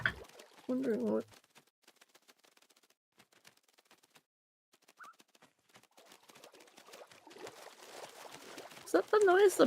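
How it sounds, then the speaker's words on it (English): Pet birds indoors flap their wings in soft, scattered fluttering bursts that build toward the end, with a faint coo partway through and brief voices at the start and finish. "If you're hearing a flapping noise, that's our birds."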